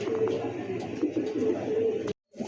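Several pigeons coo close by at a wholesale sale of local and foreign pigeon breeds, a continuous throaty rolling murmur that carries on for about two seconds and then cuts off abruptly.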